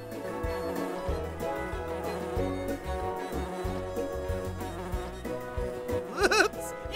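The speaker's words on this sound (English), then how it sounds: "Use the arrows to fly the bee from flower to flower." A cartoon bee in a children's nature video game buzzes steadily as it flies from flower to flower, a thin insect drone over light game music, ending with a brief rising chime.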